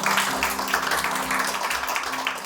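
A church congregation applauds as an offering of praise during a Pentecostal worship service, giving a dense, steady wash of clapping over a low sustained instrumental hum, without speech.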